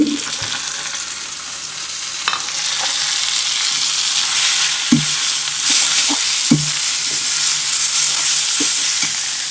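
Greens fry in a little oil with onion and garlic, a bright, steady sizzle that swells slightly partway through, broken by several soft thuds and scrapes of a spatula stirring the pan.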